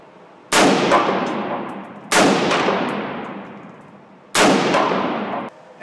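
Three loud rifle shots from a Daniel Defense rifle aimed with a laser sight ring out about two seconds apart, each a sharp crack followed by a long, ringing echo that slowly fades.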